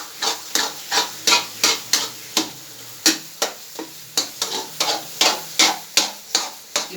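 A spoon scrapes steadily through thickening semolina halwa in a pan, with close, rhythmic strokes about twice a second, each a gritty swish against the metal, alone and without talk.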